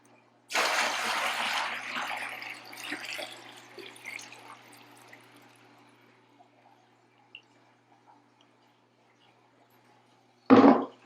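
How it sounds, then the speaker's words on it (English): Rainwater pours from one bucket into another: a loud gush that tapers over about five seconds into trickles and scattered drips, then a sudden loud clunk near the end. "I'll just take the rest of this water and dump it in this other bucket."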